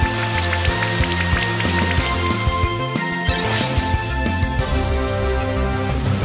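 Rain Dance in Pokemon Brilliant Diamond brings pattering game rain that runs under looping battle music, with steady drops throughout and no speech.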